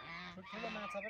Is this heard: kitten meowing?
no